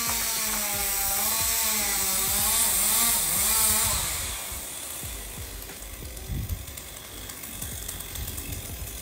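A chainsaw cuts into a tree in New Zealand, the engine droning loud and close and its pitch rising and falling as the blade bites, then settling into rougher cutting noise with woody crackles.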